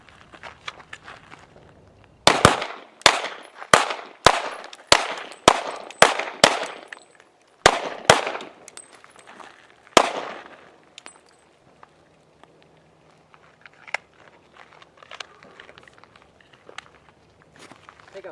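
Guns fire during desert shooting training, a rapid run of about ten sharp, loud shots at a quick rhythm, then a few more spaced shots and fainter distant pops and movement.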